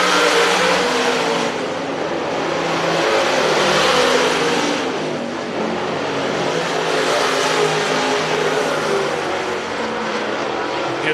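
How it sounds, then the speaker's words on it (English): Hot rod race cars lapping a dirt racetrack, a continuous loud engine roar that swells and recedes as the pack passes, with a race announcer talking over the noise. "Getting 6 good hot rods out on that racetrack right now"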